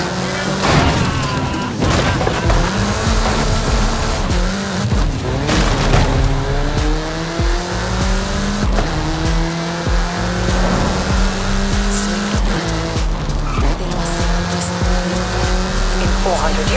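Car racing at speed in Forza Horizon 5, engine loud and constant with shifting revs, repeated tire squeals and skids through turns, and voices talking over it.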